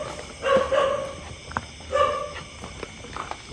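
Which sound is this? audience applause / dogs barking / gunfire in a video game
dogs barking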